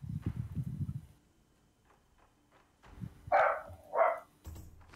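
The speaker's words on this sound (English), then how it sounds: "I hear a dog." A dog barks twice in a game, two short, fairly loud yelps close together after a stretch of low rumbling and quiet.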